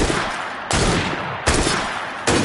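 Gunshots in Assassin's Creed Syndicate, three sharp, loud broadband blasts spaced about three quarters of a second apart, each followed by a decaying reverberant tail.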